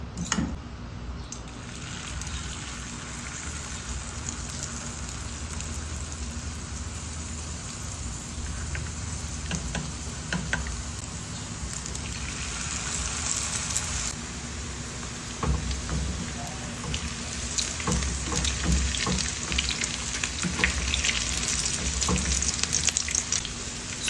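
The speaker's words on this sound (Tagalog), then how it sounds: "So, magprito na tayo." Cabbage omelette, tortang repolyo, frying in hot oil in a pan, a steady close sizzle and crackle with brief pops throughout, growing slightly louder toward the end, no talking.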